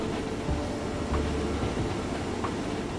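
Sprinter diesel multiple unit train running in the railway game Rolling Line, a steady continuous rumble of engine and rails with faint periodic clicks, alone with no talk.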